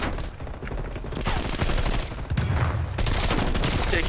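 Rapid AK rifle fire from a Call of Duty: Cold War match, dense repeated shots that stay loud and close throughout with steady game noise underneath.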